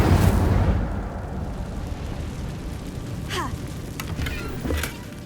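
A fire spell cast in Hogwarts Legacy bursts out as a loud whooshing blast, then fades into a crackling rumble with a few brief bright flickers, and a voice calls out over it.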